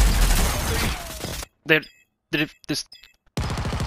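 Video game gunshots crack out in a loud, rapid burst, then stop. A player says a single word in the gap before another volley of shots starts up.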